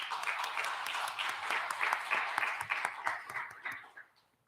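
A church congregation breaks into steady applause, many hands clapping in a dense, moderately loud patter. The clapping tapers off and fades to quiet over the last half second.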